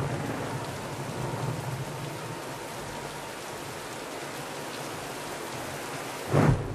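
Steady rain hisses throughout a video game thunderstorm in Tomb Raider, with a low rumble of thunder underneath and a brief louder crack near the end; no voices.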